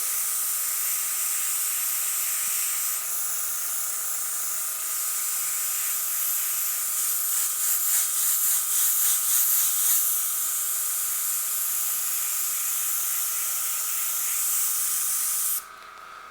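An airbrush sprays opaque violet paint in a steady, close, continuous hiss that holds for many seconds, swells slightly in the middle, then drops off abruptly near the end, with no talking.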